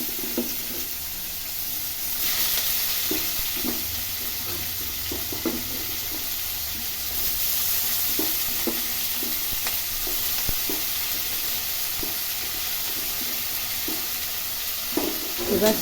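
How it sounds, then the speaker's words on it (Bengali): Onions fry in oil tempered with cumin, dried chili, cardamom and cinnamon, a soft continuous sizzle broken by repeated scraping stirs of a spatula, moderately close and steady throughout. "এবার পেঁয়াজটা একটু ভাজা ভাজা করব।"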